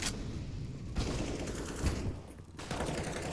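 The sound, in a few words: MAG-7 shotgun gunfire in a video game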